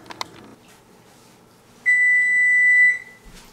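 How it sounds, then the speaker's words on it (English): A kitchen timer lets out one steady, loud electronic beep lasting about a second, alone in a quiet kitchen after faint clatter. "Timer is up."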